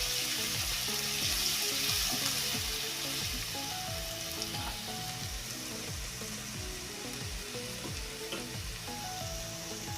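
Sliced onions fry in a pan for a dried fish tomato curry while ginger-garlic paste goes in, giving a loud, steady sizzle with repeated rhythmic scraping of stirring throughout and no talking.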